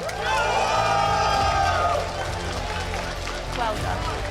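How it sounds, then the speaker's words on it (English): A crowd cheers for the champion at the 2024 Pokémon GO Gdańsk Regional Championships, loud sustained cheering and shouting that swells, dips around the second mark, then rises again, with voices mixed through the noise. "Please give a huge cheer for our champion."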